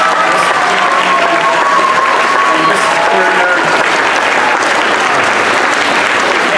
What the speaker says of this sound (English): Could we just please give them one more big round of applause?